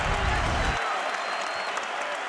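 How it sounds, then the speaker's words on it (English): Home crowd at Iowa State's Hilton Coliseum applauds the defense after a Kansas State shot clock violation in a 2024-25 Big 12 men's college basketball game. The applause is a loud, steady roar throughout, with a deeper rumble at the start. "And the Hilton crowd applauding the defense"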